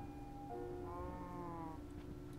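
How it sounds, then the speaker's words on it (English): Livestock mobs in Minecraft, cows gathered in a park, give off a few drawn-out bleating, lowing calls over steady game background noise, with no talk. "Hey, cows. Many cows."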